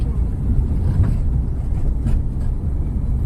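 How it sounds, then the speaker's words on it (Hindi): A car engine runs smoothly after an upshift while driving on a wide road, a steady low rumble with some wind and road noise and no talking. "तो इंजन भी थोड़ा स्मूथ हो गया चलने में, है ना, आवाज थोड़ा फ्री हो गया है ना"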